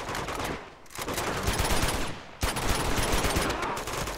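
Rapid automatic gunfire in Uncharted 2: Among Thieves, dense bursts of shots rattling loudly and close, with a short lull before a fresh burst kicks in again.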